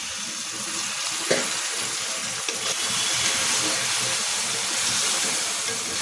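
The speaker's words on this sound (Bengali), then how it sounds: "একটু সামান্য একটু পানি দিয়ে দিচ্ছি" A small amount of water pours steadily into a pot of pointed gourd and coconut curry, a continuous close rushing splash that holds its level for several seconds, with a few faint clinks and no talking.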